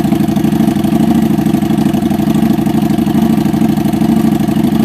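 A steady, low Harley motorcycle engine idle runs evenly throughout while warming up at about 58 degrees, a continuous rumble with a faint rhythmic throb and no voices.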